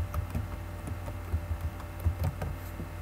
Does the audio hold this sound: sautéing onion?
no